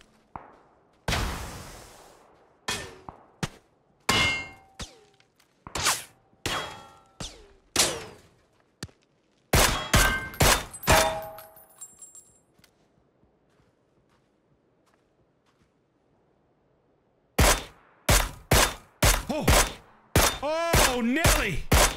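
Sharp, loud gunshots crack from PUBG gameplay, arriving in spaced single shots and quick bursts, with a quiet gap in the middle before another rapid volley closes it out.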